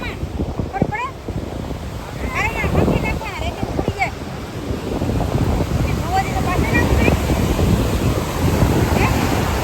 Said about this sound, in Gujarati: જો મોજા બહુ આવે.